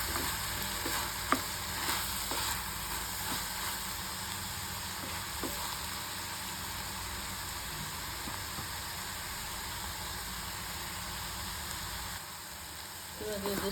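Oil frying steadily in a pan for ridge gourd palya, a constant soft sizzle with occasional light clicks of a utensil, fairly quiet and unbroken throughout.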